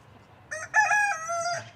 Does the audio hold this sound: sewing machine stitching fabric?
no